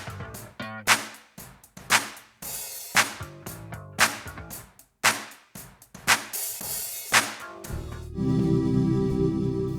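Side channel of a mid-side processed stereo music track, heard alone: a steady run of sharp, thin percussive hits with short, hollow reverb tails, ending in a sustained buzzy tone.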